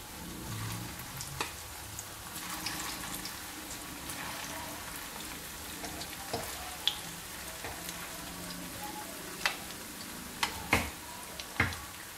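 Semolina and potato snacks frying in hot oil, a steady soft sizzle with occasional sharp pops and crackles, heard alone and close up.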